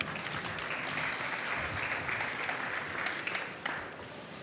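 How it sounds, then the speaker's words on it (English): Steady applause from a conference audience greeting panel speakers at a dual-use ecosystem event, a dense even patter of many hands clapping at moderate distance, sustained throughout with no voices over it. "Give a round of applause for them."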